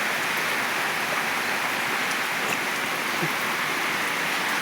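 Steady light rain falls outside through a long morning drizzle, a continuous even hiss with no let-up and no voices, moderately loud and close.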